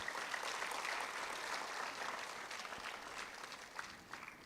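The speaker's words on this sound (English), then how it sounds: "He deserves a big round of applause." Applause from a live talk-event audience at the close of an interactive session, a steady, dense wash of clapping that stays fairly faint and even throughout, without talk over it.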